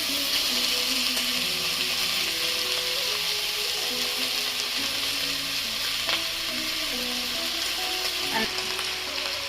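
Mixed vegetables and cooked rice frying together in a pan for veg fried rice, a steady close sizzle with occasional stirring scrapes, no speech.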